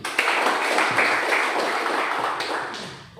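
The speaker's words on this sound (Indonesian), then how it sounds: "Tepuk tangan." Crowd applause at a Pemuda Pancasila gathering at their Batam city secretariat, a dense, steady clapping that fills the whole stretch and fades slightly toward the end.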